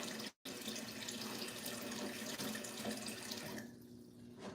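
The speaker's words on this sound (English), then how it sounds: "Got our pot full of water." A kitchen tap runs steadily into a pot being filled with water for cooking dinner at home, a close, continuous broadband rush with one brief break near the start.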